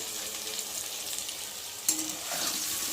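Ginger paste with turmeric and salt fries in a hot pan, a steady close sizzle with a sharp stirring scrape partway through, then continued frying.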